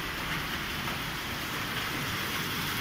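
Steady rain falls at an outdoor street market, a soft continuous hiss throughout at low level, with no voices and nothing else standing out.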